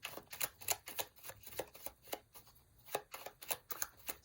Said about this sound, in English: I'm going to shuffle the mini Rider-Waite deck